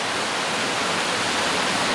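Creek water flows over rocks in Australian bushland near Coffs Harbour, a loud, steady, broadband rush that stays close and continuous throughout, with no voices.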